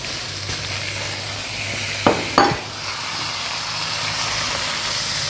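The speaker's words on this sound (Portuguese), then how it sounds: "Vamos mexer bem pra misturar" Chicken and tomato being stirred in a pot on the stove, a steady sizzle underneath with two quick scraping, clanking spoon strokes against the pan in the middle.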